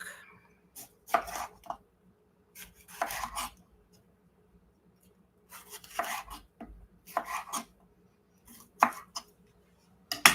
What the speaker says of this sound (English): I'm going to cut this pepper real quick